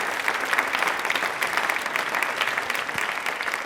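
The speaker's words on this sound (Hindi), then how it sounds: "जोरदार वाली तालियां बजाइए" Loud, steady applause from an audience at a quiz programme, dense clapping sustained evenly for the whole stretch with no voices over it.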